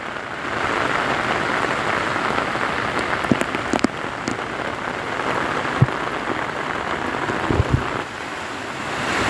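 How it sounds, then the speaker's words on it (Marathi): Heavy monsoon rain pours steadily in a Konkan village near Chiplun, a loud, dense hiss throughout with a few sharper drips and splashes. "या भागात पाऊस भरपूर प्रमाणात आहे"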